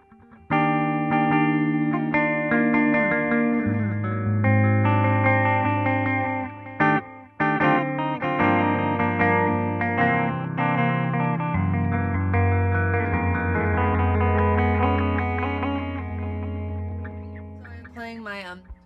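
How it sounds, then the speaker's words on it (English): Electric guitar, a Fender American Professional II Jazzmaster, played through a simple delay on a Line 6 POD Go, sustained distorted chords with echoing repeats, held steady and fairly loud before trailing off near the end. "So that's what the simple delay is."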